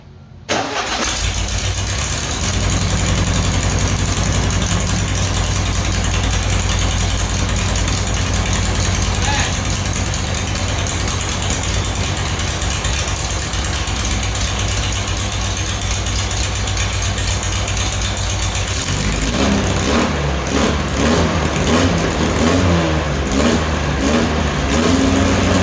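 Volkswagen Baja engine cranking and catching, then running loud and steady at a rough idle up close, with the tone changing and a slight rev near the end while a voice talks over it.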